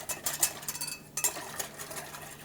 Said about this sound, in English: Okay, I'm going to give this a little whisk.